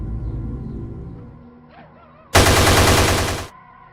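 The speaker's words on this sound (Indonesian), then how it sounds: "Saat berdoa, Jenderal DI Panjaitan tiba-tiba ditembak di teras rumahnya dan meninggal saat itu juga." A short film scene of a general shot on the porch of his house: a dense burst of rapid gunfire about a second long breaks in suddenly after a stretch of low rumbling tones and a brief faint voice-like sound.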